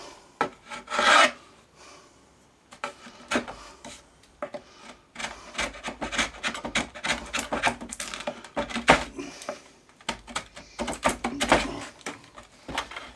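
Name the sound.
sanding the wooden radio cabinet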